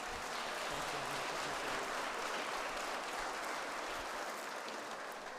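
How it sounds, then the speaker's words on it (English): Gala audience at the Santa Fe Education Foundation event applauding, a steady, fairly faint wash of many hands clapping heard from a distance without speech. "Give them both a big round of applause."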